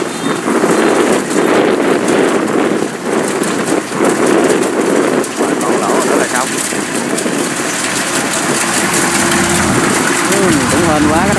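A Kubota DC105X combine harvester runs in the rain at a rice field, its steady engine drone loud and continuous through the whole stretch, mixed with rain and wind noise, while voices talk over it.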